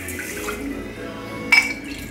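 Water poured from a recyclable Singha plastic bottle into a one-cup measuring cup while making purple rice cream, a steady low trickle with a brief brighter splash toward the end.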